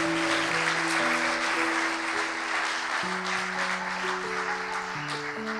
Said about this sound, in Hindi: जोरदार तालियां अपने लिए बजाएं।